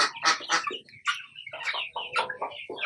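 Rhode Island chickens on a farm cluck and squawk close by, a busy overlapping chorus of short calls from several birds.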